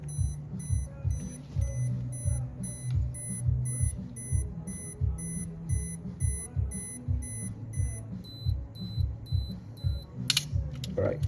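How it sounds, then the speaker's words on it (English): A Minolta XA2 film camera's self-timer whirs and ticks mechanically, a steady rhythmic clicking with a high repeating beep, close by, ending in a sharp click. "Alright, so self timer is still working as well"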